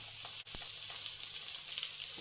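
Steady, loud sizzling of a New York strip steak in melted butter, heard up close with a sharp click early on and light crackles throughout.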